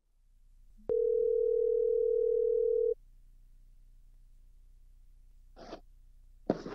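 A single steady telephone tone rings out for about two seconds on a call into a sports show hotline, then cuts off to near silence, followed by a couple of faint breathy rustles.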